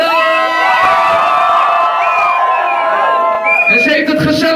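A live audience cheers and whoops loudly, a sustained roar of high shouting voices with a pause before a fresh burst of screams near the end.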